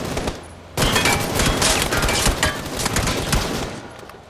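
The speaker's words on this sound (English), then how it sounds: "People at the buildings are shooting at us." Gunfire in PUBG from enemies in nearby buildings, a loud rapid crackle of automatic shots going on for several seconds after a quieter opening.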